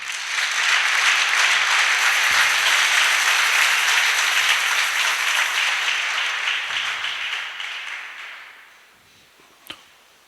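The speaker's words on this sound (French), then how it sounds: "Veuillez applaudir pour le Seigneur." A church congregation breaks into sustained, loud applause, a thick, even clatter of many hands that fades away after several seconds, ending with a single sharp knock.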